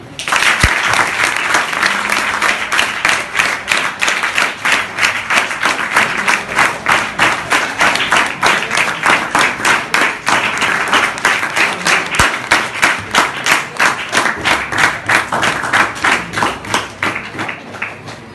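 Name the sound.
audience applause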